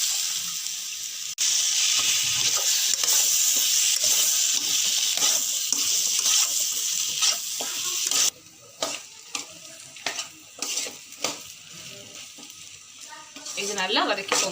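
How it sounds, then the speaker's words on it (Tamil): Brinjal sizzles in a hot pan with masala for a dried anchovy kulambu, a loud continuous frying hiss with spoon scrapes that drops off partway, leaving intermittent clatter and stirring knocks. "நல்லா வதக்கிக்கோங்க"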